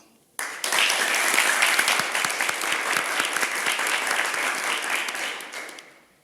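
A TV quiz-show studio audience bursts into loud applause that starts abruptly, holds strong and dense for several seconds, then tapers off at the end.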